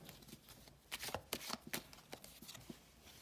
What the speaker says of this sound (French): je vais encore tirer une carte